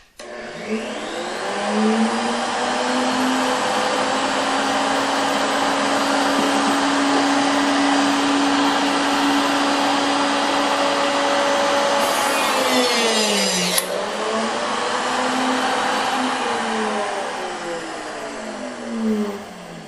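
A router on a router table whines up to a steady high-speed drone, briefly dips as it cuts through wire coil for jump rings, then spins back up, loud and continuous with no talking.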